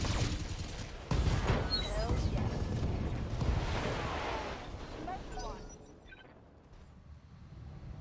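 Mech weapons fire in the BattleTech video game: a loud, dense volley of rapid shots and impacts that thins out and fades over the last few seconds.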